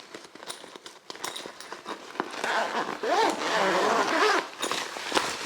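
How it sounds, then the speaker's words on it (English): The cheap-feeling zip of a clamshell bag holding a SUPAREE 5m Type 2 EV charging cable is pulled open in a run of close, loud rasping strokes mixed with light handling clicks. "The zip feels just a little bit cheap on this one."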